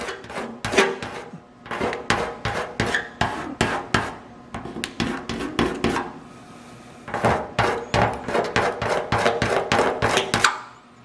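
Paint is scraped off the trunk of a 1951 Dodge Crusader, heard as a series of close, sharp rasping strokes in quick rhythmic bursts, with a brief pause in the middle before the scraping resumes.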